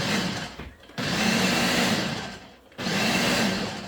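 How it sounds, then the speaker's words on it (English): A blender roars in two loud pulses blending salsa verde, stopping briefly in between, the motor whining steadily and close by with no voices. "We're just going to blend this now."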